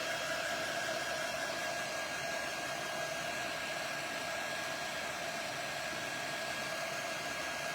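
A handheld dryer blows in a steady, even whoosh throughout, drying thick chalk paste on a craft project; continuous and fairly close, with no talking.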